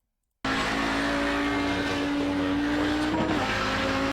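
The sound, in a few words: Audi 90 GTO race car engine at Spa in a racing game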